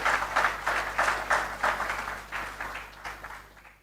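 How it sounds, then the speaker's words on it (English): Applause for a winner at a regional top awards ceremony: a steady round of clapping from the audience, moderately loud, with rhythmic swells that fade toward the end. "a round of applause once again for Yudia McKay"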